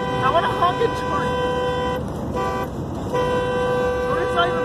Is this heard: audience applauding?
no